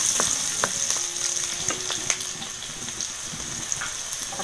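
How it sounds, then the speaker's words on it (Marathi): Onions frying in oil over a wood-fired clay stove make a constant close sizzle with scattered crackling pops and light stirring, and no one speaks. "कांदा जरासा लाल करून घेऊया आपण"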